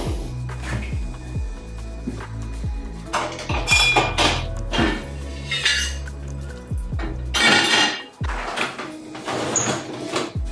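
Dishes are washed by hand in a home kitchen, with plates, pots and cutlery clinking and clattering in irregular bursts up close. Water splashes now and then, and no one speaks.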